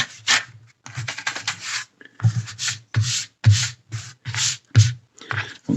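Excess dried glue being scraped off a detached book spine during book repair, a run of close, dry rasping strokes in short repeated bursts with brief pauses, no voices.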